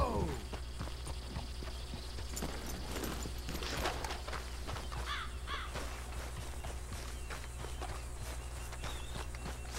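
Horses' hooves clip-clop steadily in the Red Dead Redemption game, a moderately close, continuous rhythm that runs the whole time, with crows cawing over it and a low ambient hum beneath.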